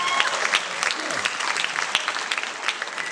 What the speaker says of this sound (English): okay, clap for that too.